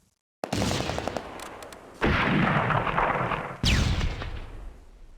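Gunfire and artillery in the World War II strategy game Close Combat: A Bridge Too Far: after a brief hush, loud blasts hit at three points, each followed by a rattle of shots and a rumbling decay.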